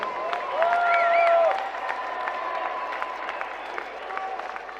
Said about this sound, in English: A round of applause for the two boxers.